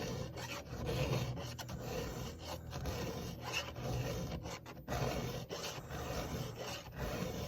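A chainsaw chain being sharpened with a hand file, giving repeated rasping strokes in a steady rhythm, close and fairly quiet, with brief pauses between passes.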